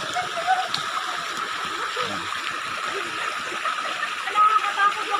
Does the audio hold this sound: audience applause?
no